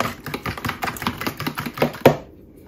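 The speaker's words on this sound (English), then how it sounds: "So I'm gonna stir this for a second" Quick rhythmic clinks and taps of a utensil stirring cinnamon French toast batter in a bowl, close and fairly loud, ending with a sharper knock before going quiet.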